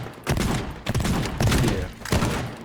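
Pipe bombs go off in the physics sandbox game Teardown, a rapid string of loud, close blasts rumbling back to back across the whole moment with almost no gap.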